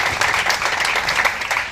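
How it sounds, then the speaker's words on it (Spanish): Applause from an audience at a women's discussion forum, a dense, steady burst of clapping lasting under two seconds. "Un aplauso para la jefe Ángela."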